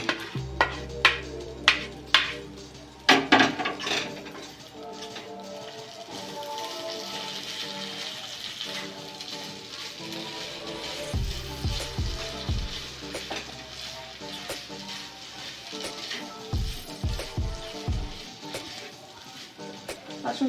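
Fried fish roe (kurdi) dropped into a pan with oil, a steady sizzle and frying crackle after a few clattering knocks, with scattered thumps from stirring.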